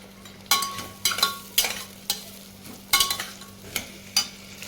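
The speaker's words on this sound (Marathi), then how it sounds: "बटाटा परतून झाल्यानंतर आपण त्याच्यात कोथिंबीर टाकून घेऊयात" Potatoes and coriander being stir-fried in a pan, with a spoon scraping and tossing in sharp, irregular strokes about every half second over a faint steady sizzle and a low background hum.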